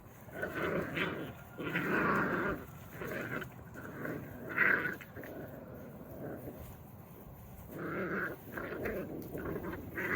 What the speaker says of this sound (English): These are the 4 boy puppies.